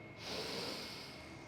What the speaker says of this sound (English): taking a couple deep breaths in through the nose and out through the mouth